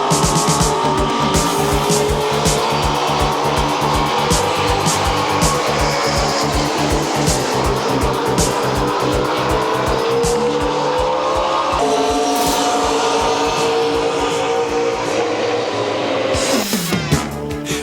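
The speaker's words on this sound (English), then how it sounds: "These are top fuel dragsters." Top fuel dragsters thunder past in a loud, continuous engine blast with rapid pulsing rhythm and shifting pitch, ending in a sharp burst as the roar fades and changes.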